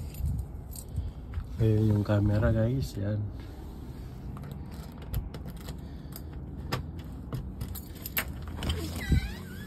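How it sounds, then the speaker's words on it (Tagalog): Keys jangle and rattle repeatedly as a house door is unlocked and opened, close and fairly crisp, with someone talking at times over the clinks and a car briefly audible. "Buksan na natin yung pinto"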